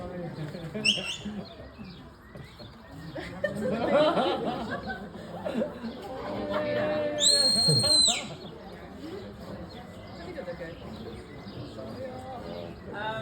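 Someone talks over outdoor ambience while two short, sharp sheepdog whistle blasts sound, one early and one a few seconds later.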